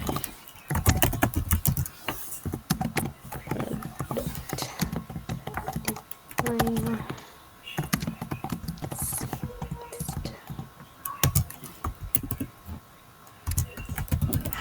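Someone types a chat message on a computer keyboard during an online design session, producing fast, close clicking in bursts with brief pauses between them.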